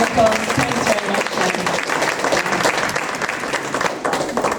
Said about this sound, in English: I think we'll all give Jenny a round of applause.